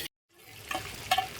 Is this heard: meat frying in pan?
yes